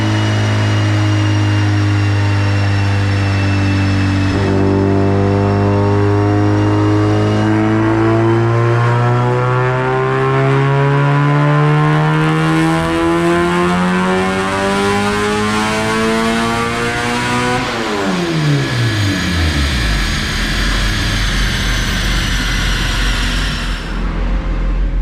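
A turbo D16 engine in a Honda Civic EF hatch on 93 octane makes a 4th gear dyno pull, a loud droning roar rising smoothly in pitch for many seconds before sharply dropping off as the run ends.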